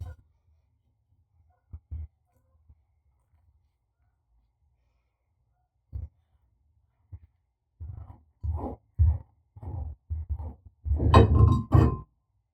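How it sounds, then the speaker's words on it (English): A chisel chips old tile off a bathroom wall during a remodel demolition. A few isolated knocks come first, followed by a close run of sharp, hard taps and cracking strikes that peak loudest at the end. "Flat side of the chisel into the tile."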